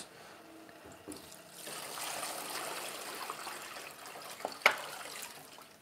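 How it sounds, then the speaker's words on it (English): Bathroom water pump running low during a tub renovation, a soft steady trickle and gurgle of flowing water with a brief sharper knock, quiet and nearby. "You can hear the pump, like,"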